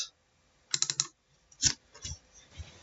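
A computer keyboard is typed on while renaming a connector in OrCAD schematic software, a quick cluster of close, crisp key clicks followed by a few more isolated taps.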